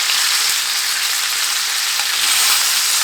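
Chicken pieces sear in a pan over medium heat for chicken cacciatore, a loud, dense, unbroken sizzle that holds steady throughout, with no voices.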